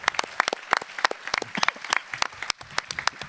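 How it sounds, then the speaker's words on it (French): An audience at a national eloquence contest in Aix-en-Provence applauds the candidates, a small crowd's scattered claps in a steady patter, moderately close, with no voices over it. "tous les candidats méritent vos applaudissements ce soir"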